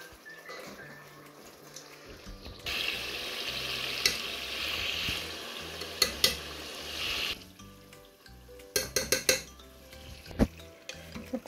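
Chicken with onion and spices in a pot is stirred, with a sizzle swelling loudly in the middle and a spoon scraping and clanking against the pot in sharp knocks toward the end.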